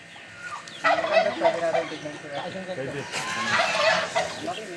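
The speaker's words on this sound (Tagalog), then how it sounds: "Ganun kalaking pabo" A turkey gobbles loudly nearby in rapid warbling bursts, with other fowl calling and people talking in the background.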